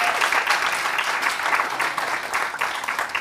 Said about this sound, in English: So a round of applause for him too.